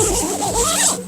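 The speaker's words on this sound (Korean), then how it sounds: "지퍼가 하나 있는데 여기를 또 열어두면," A zipper opens on the upper door panel of a Helsport Lofoten Superlight 2 tent, a continuous close, loud rasp running a little over a second with no speech.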